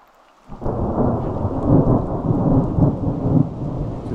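Heavy rain pours steadily by a river in the mountain wilderness while low thunder rumbles and rolls close by, starting abruptly after a brief quiet moment.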